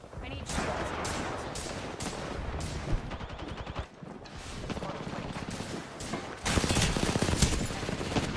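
Rapid gunfire bursts from an Apex Legends match, dense and continuous with a louder volley near the end, heard beneath a talking voice.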